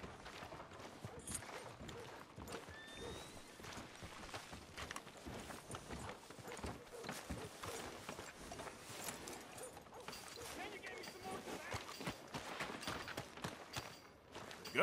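Horse hooves clip-clop steadily in the Red Dead Redemption 2 video game, a continuous rhythmic trot mixed into a busy game soundscape of ambient noise throughout.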